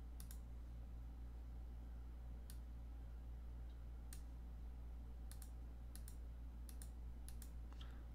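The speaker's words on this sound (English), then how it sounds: "clicking and trimming." Mouse clicks while trimming a 3D marble maze model on a computer: sparse, sharp clicks arrive singly and in quick pairs at irregular intervals over a steady low hum, close and fairly quiet.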